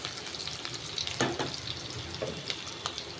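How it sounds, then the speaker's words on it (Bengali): Onion frying in oil gives a faint, steady sizzle, with occasional soft stirring scrapes and clinks close by and no voices. "পেঁয়াজটা একটু ভাজা হোক।"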